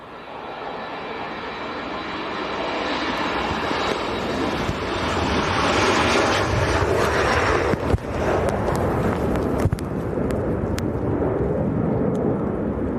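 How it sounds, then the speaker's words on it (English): A Jet2 airliner rolls for takeoff on runway 14 at Leeds Bradford Airport, a loud, steady jet engine roar swelling and holding over many seconds in breezy wind, heard from behind the perimeter fence. "Here we go, Jet 2 on the roll."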